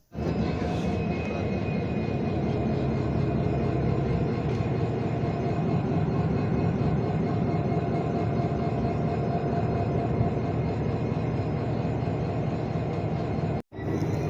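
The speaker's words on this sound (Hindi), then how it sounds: "रेलवे स्टेशन से जो अभी इंजन छोड़कर आगे निकला है" A goods train locomotive engine pulls away from Nirmali railway station with a loud, steady rumble and drone lasting the whole stretch, briefly cutting out near the end, with no one talking.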